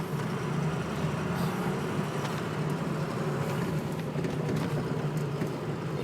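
A 2006 Ford F350 diesel pickup with 125k miles driving on a road, its low engine drone and road rumble steady and continuous from inside the cab.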